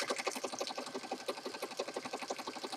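A sewing machine stitches through paper journal pages for a peacock-themed journal, a fast, steady mechanical rattle of needle strokes running close and continuous with no talk.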